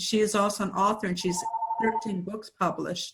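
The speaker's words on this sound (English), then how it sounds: "sorry about the phone interruption" A telephone rings with a steady electronic tone in the middle of the clip, sounding at moderate level beneath a woman's continuous speech, with talk before and after the ring.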